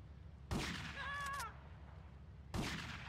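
Gunshots in Grand Theft Auto: Vice City, two sharp loud blasts about two seconds apart, with a short warbling tonal sound between them over a low steady background hum.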